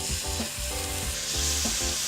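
Steady sizzling from a hot pan as water is added to dissolve a curry powder stir-fry sauce, with soft scraping of stirring, close and fairly quiet, no voices.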